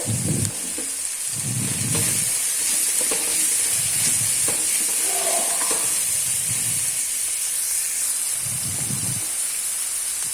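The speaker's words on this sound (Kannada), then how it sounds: "ಇಲ್ಲಿ ಟೊಮೆಟೊನ ಒಂದು ಸ್ವಲ್ಪ ಫ್ರೈ ಆಗಬೇಕು ನೋಡಿ ಇದು ಫ್ರೈ ಆಗಿದೆ" Tomatoes frying in a pan for a North Karnataka chavalikai palya, a steady loud sizzle and hiss throughout, with soft stirring thumps recurring every couple of seconds.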